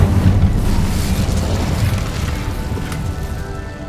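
A fire spell blast cast in the video game Hogwarts Legacy, heard as a loud, booming, roaring burst that rumbles steadily and slowly fades over a few seconds.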